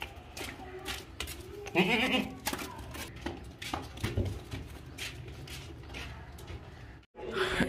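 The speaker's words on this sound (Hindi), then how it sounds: "ये बकरा चेक करें माशाल्लाह" Goats at a livestock market selling Qurbani animals, with a bleat standing out amid a busy mix of nearby voices and animal calls, the crowd noise steady throughout and dropping out briefly near the end.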